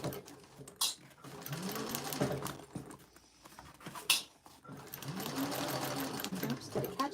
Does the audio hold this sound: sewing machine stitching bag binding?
yes